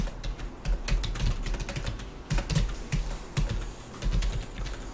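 Keystrokes rattle on a computer keyboard while commands are entered in AutoCAD for a 2D drawing, a steady run of close, crisp clicks with short pauses and small bursts, and no talking.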